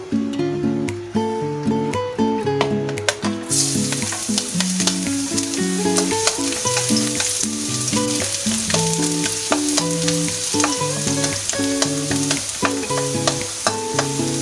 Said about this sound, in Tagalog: Igisa na po natin ang ating bawang at sibuyas. So, unahin po natin yung ating bawang para sa ating pagluluto.